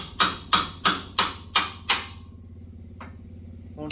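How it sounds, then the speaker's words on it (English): A hammer strikes an old car part to loosen it: six sharp, evenly spaced metallic blows in quick succession, then a couple of lighter knocks after a pause. "It's a good way to free up some stuff like it's shocking it with a hammer."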